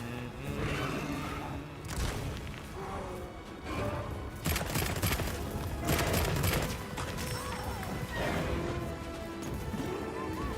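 A heavy bowgun firing in Monster Hunter Wilds, with repeated booming blasts and crashing impacts in quick bursts over a busy, rumbling battle background, loud and close.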